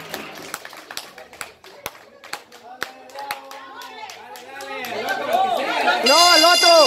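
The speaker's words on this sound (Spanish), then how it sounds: "Acabó esa, un aplauso." Applause at a New Year's party: scattered hand claps build into fuller clapping from a small group indoors, with people chattering and cheering over it.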